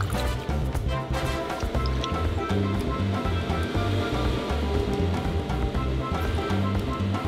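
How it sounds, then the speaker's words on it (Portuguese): Water churning and bubbling in a backyard swimming pool during a kids' game, a dense, steady wash of splashing and fizzing that runs continuously at close range. "Olha só, tá borbulhando."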